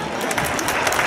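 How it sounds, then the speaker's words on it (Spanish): Brief burst of audience applause at an outdoor medieval knights combat show in Manzanares, 2014, a dense, steady clatter of many hands clapping for the whole moment. "Fuerte aplauso para ellos."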